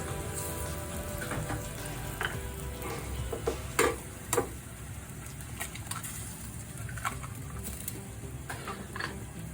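Eggs with sweet corn cooking in a pan, a faint sizzle under sharp ticks and clinks of utensils against the pan, with no talk.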